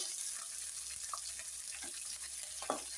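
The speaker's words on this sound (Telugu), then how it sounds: "పల్లీలు అయితే వేగాయండి ఇందులో పచ్చిమిర్చి జీడిపప్పు వేసుకున్నాం ఉల్లిపాయ ముక్కలు" Peanuts, green chilies, cashews and onion pieces fry in hot oil, giving a steady close sizzle with faint stirring clinks and a brief louder crackle near the end, no voices.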